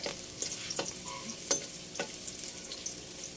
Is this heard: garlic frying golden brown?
yes